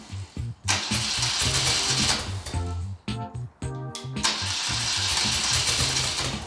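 A classic carbureted BMW R65LS motorcycle engine idles roughly on half choke with lean jetting, giving a lumpy, uneven low chugging with irregular beats and brief dips.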